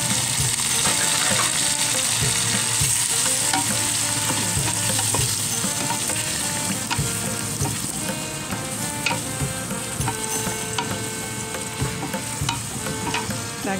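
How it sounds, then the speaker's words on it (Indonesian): Boiled beef stir-fried with browned onions for dalca sizzles loudly in a pan, a dense constant crackle punctuated by scraping stirs, with faint tonal background sound and no talking. "kita masukkan daging yang kita sudah rebus tadi ya"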